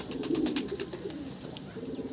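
Pet male pigeons in a pigeon collection setup coo repeatedly, a close, steady run of soft low rumbling calls with no talk.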